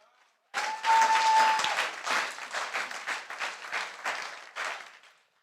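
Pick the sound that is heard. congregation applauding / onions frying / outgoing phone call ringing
congregation applauding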